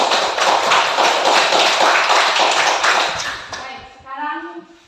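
A classroom of students claps together in a dense, steady burst of applause that fades out over the final second, as a voice begins speaking.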